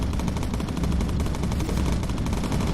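Bomber gun turrets firing incendiary rounds in the game Bomber Crew, a loud, unbroken stream of rapid machine-gun fire with a rumbling engine-like bed beneath, dense and constant throughout.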